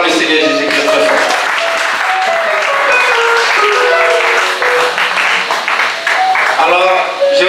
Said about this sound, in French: Si tu es d'accord, acclame le Seigneur Jésus-Christ très fort.